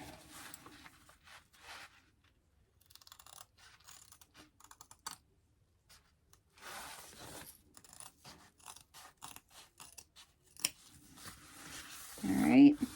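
Scissors snipping out fabric pieces for a sewing project, with sparse close cuts and rustles broken by quiet pauses, and a louder handling noise near the end; a voice speaks briefly.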